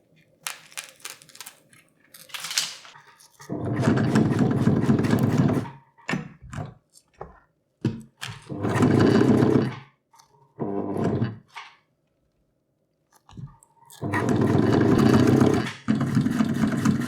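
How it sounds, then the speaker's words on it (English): A domestic sewing machine stitches velcro onto the front of a fabric spray deck for an inflatable kayak, running in several loud, steady bursts of a few seconds each, separated by pauses with small handling clicks. "The first thing I'm gonna do is to sew the front here, the front velcro,"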